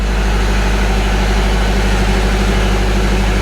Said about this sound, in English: Generator here as well, which is running at the minute, which is why it's a little bit noisy down here.